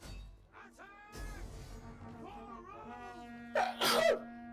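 A single sharp, loud sneeze bursts out near the end, after a few seconds of quieter tonal vocal sounds.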